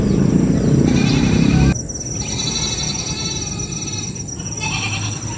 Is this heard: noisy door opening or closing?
no